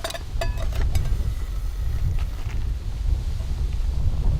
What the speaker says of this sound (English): I apologise for the wind